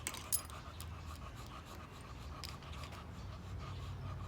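A dog on a boat pants rapidly and steadily nearby, quick rhythmic breaths with a faint whimper near the start, over low engine-like background rumble.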